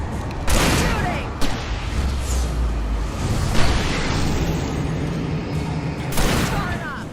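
Bursts of gunfire in the Alan Wake video game, several sharp broadband shots spread across the clip over a constant rumbling ambient bed, loud and close, with no speech.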